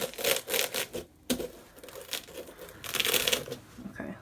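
Scissors stab and crunch into a block of styrofoam, giving a run of dry crackling, squeaking tears and crumbles in uneven bursts, close up with no talk.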